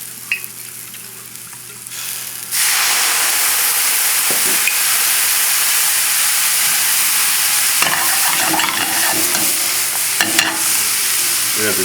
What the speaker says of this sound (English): And I'm going to add the Marsala.